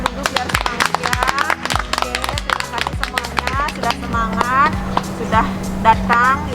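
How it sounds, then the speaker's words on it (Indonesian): A group of school students clapping their hands together at a morning extracurricular health unit session, sharp rhythmic claps close by, mixed with voices chanting and talking throughout. "kita tepuk tangan dulu biar semangat ya"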